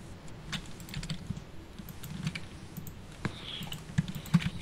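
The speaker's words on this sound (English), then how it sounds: "You guys can probably hear my mouse clicking." Soft, close clicks from a computer mouse and keyboard come in an irregular run of taps over a quiet room, with no voice.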